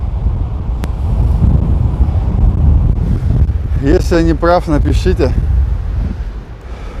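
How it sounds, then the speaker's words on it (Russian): Strong wind at a seaside beach in Anapa buffets the microphone in a steady low roar throughout, with someone speaking briefly in Russian in the middle. "Но ветер сильный сегодня."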